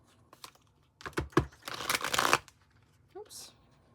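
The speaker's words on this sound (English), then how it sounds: "Let's get one more shuffle in." A deck of tarot cards being shuffled by hand, a few light taps, then a quick riffling burst of crisp card flutters, close and fairly quiet, followed by a short soft rustle.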